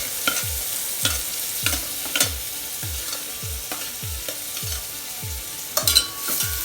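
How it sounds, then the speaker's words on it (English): Garlic and onions sautéing in butter and oil for broccoli soup, a close, steady sizzle punctuated by a regular rhythm of spatula strokes about every half second, with a couple of sharper clatters near the end; no speech. "And saute it a little bit. Now add the onions. First the garlic, then the onions."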